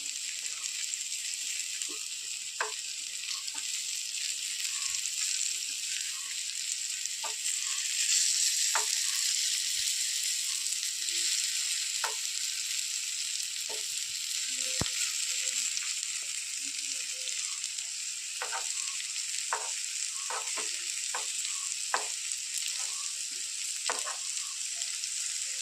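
Bitter gourd pieces frying in a pan over a medium flame give a continuous close sizzle, dotted throughout with small crackles and pops.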